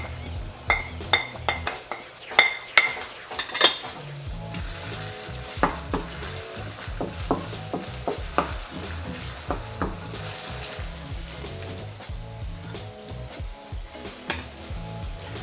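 Ginger added to a hot pan with onion for chicken pastil sizzles and fries, with utensil clinks and stirring knocks over a steady hiss, close up and without talk.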